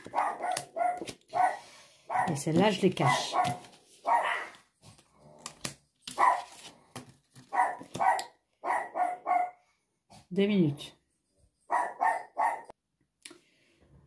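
A dog barks in repeated short bursts, some loud and near, scattered between and over a woman's French speech in an indoor room.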